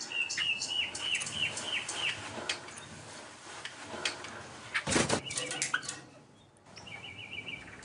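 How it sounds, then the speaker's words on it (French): A pet nightingale and a Thai sparrow sing indoors in a home with plants, trilling phrases repeating through the clip and a brief louder burst near the middle. "Madeleine Riffaut passe des heures à écouter le rossignol et le moineau thaïlandais faire leur gamme"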